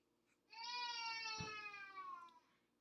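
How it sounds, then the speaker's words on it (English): A single wailing cry from a child rises and trails off over about two seconds. It sounds faint and muffled, coming from upstairs. "You can hear my daughter crying upstairs."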